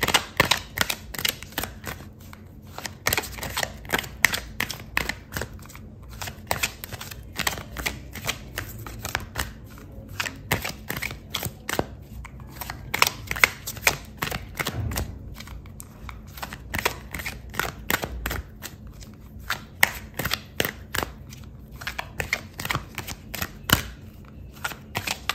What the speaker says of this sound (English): I'm going to pull out another card for you